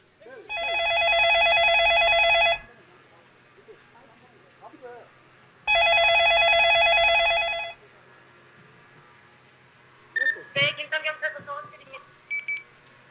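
An electronic mobile phone ring sounds in two long, steady bursts separated by a pause, followed by faint speech.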